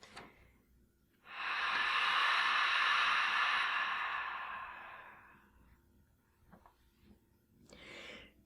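A long, deep cleansing exhale during a seated chair yoga session: one loud, steady breathy rush lasting about four seconds that slowly fades, followed by a few faint soft breaths and rustles.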